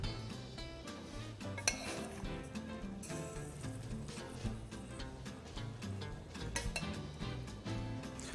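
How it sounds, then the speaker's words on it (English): A spoon ladles poached pear and Mitake tea syrup over a sliced pear, giving soft clinks of spoon on dish against a steady, fairly busy kitchen background with no talk. "gonna spoon some of this over our pear"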